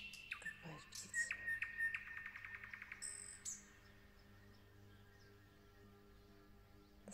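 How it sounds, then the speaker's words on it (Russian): Birds chirp and twitter in quick bursts for the first few seconds, bright and fairly close, then fade to quiet forest ambience with a faint steady hum. "Послушай, какая птица."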